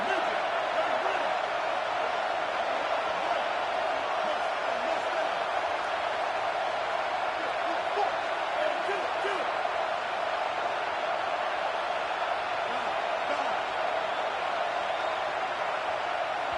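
Steady, dense stadium crowd roar from a college football video game, Alabama versus Texas A&M, sustained at an even loudness throughout with a broad wash of voices and no distinct cheers standing out.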